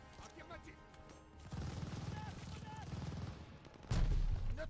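Machine gun fire rattles in the video game Call of Duty: Vanguard during a battle. Game voices are heard early on, then rapid bursts of automatic fire break out, followed by a heavier, louder volley near the end.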